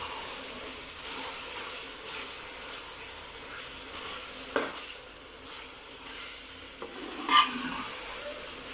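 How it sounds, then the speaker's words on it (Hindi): Drained spinach sautés in a pan over a low flame, producing a faint, soft sizzle with a couple of brief scraping stirs. "पालक को अच्छे से ड्रेन कर लिया था मैंने और अब इसकी अच्छे से भुनाई कर लेंगे"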